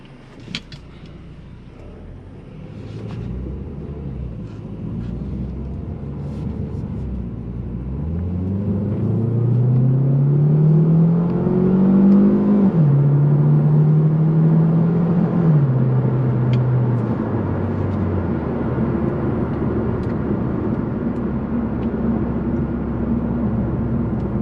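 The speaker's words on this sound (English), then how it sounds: "this car runs and drives perfect now" A Ford Focus with its transmission fault fixed drives off and accelerates, the engine note climbing through gears with audible shifts, steady rumble and road noise close by.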